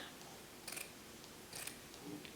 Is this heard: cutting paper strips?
yes